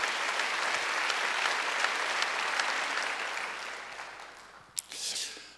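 A church congregation applauds during a Wednesday worship service, a dense, steady wash of clapping that gradually fades away, ending with a brief sharp knock and a short final rustle.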